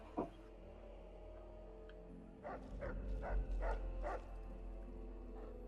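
Dogmeat, the canine companion in Fallout 3, barks in a short run of sharp, fairly close yaps, a single bark first and then four or five in quick succession, over a low hum.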